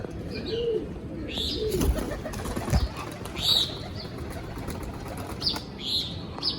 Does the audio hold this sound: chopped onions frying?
no